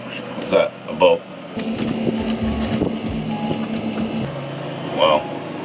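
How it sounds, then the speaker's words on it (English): A fishing boat's motor drones past nearby on open sea water, a steady engine hum under gusting wind noise, with brief bursts of people talking at the start and end. "damn these bastards in their fishing boat"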